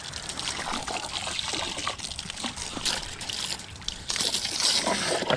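Water trickles and splashes steadily into a pig trough on a pig farm, a continuous close sloshing stream with no talk over it.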